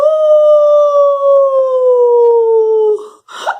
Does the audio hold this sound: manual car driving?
no